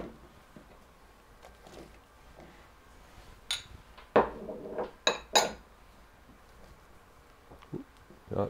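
Chopped zucchini, carrots and pancetta tossed into a bowl in a home kitchen, heard as a few scattered clinks and knocks against the dish, some sharp, with quiet gaps between.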